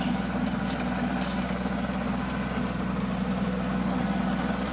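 A big farm tractor with a tiller attached running at a constant low idle, a steady rumbling drone close by and alone, without talk.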